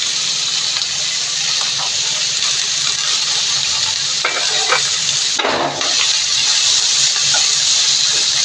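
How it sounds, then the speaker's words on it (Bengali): Capsicum, carrot and cabbage fry in a pan for chatpata chapati aloo, making a loud continuous sizzle and hiss close up, with a brief stirring scrape partway through and no voices. "এর মধ্যে ক্যাপসিকাম, গাজর সব হালকা হালকা ভেজে নেব।"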